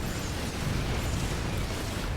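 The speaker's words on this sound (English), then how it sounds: "Those explosions. They're pretty fancy." Widow mine blasts from a StarCraft II co-op match fill the clip with a dense, continuous roar of game explosions that stays loud and steady throughout, with no distinct gaps between bursts.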